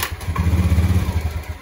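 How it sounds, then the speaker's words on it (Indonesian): A Honda Beat ESP scooter engine that is hard to start and stalls when throttled runs roughly, sputtering in a fast, uneven low throb for about a second, loud and close. "Motornya berbet seperti ini."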